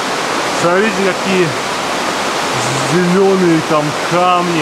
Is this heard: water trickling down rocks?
yes